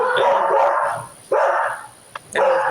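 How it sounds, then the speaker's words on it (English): A dog barks from across the way, loud and fairly close, in several bursts with short gaps and no talk over it. "my dog don't sound like that. That's a dog across the way."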